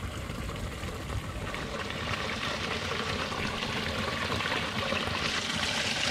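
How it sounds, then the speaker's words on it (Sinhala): Spring water flows steadily along a stream inside a cave, giving an unbroken close rush and trickle with no voices over it. "උල්පත් වලින් එන වතුර"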